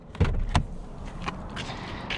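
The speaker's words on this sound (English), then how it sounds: "Let's open the engine bay." Hood of an AMG GT S sports car popping open: two sharp latch clunks close together near the start, followed by softer rattles and faint clicks while the engine bay is lifted.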